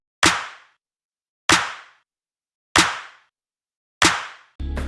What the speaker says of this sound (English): Over that clap I put this snare.